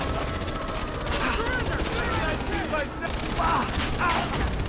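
Rapid gunfire bursts in the video game Far Cry 3, dense continuous shooting and game action under excited talking.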